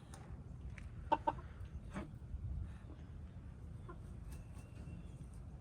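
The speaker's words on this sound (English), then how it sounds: "Y'all are some pretty chickens." Black silkie chickens cluck softly in a farmyard, a couple of sharper clucks standing out early among scattered quieter calls over a low rumbling background.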